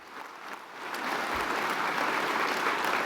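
A conference crowd claps for alumni standing up in the room, the applause swelling from moderate to a full, steady roar that holds to the end.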